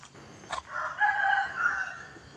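A rooster at a temple in Chae Hom, Lampang, Thailand crows once in a long drawn-out call, fairly close and clear, with faint background noise and no talking.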